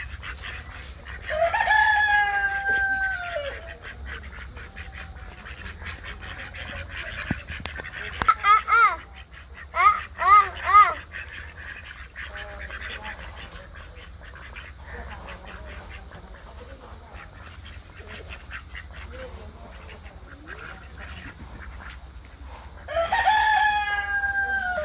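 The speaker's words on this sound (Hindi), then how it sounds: "ये आपकी बतखे हैं? कितनी बतखे हैं?" Ducks being fed grain outdoors, with bursts of quacking at the start, middle and end over low background noise, and people talking faintly at times.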